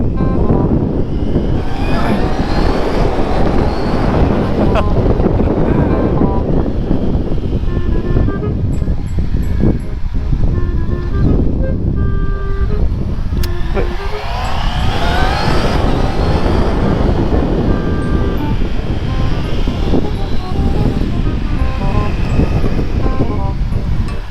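A Honda CB650R E-Clutch motorcycle leans through a curve, its engine note climbing and dropping with gear changes under loud, continuous wind buffeting on the microphone.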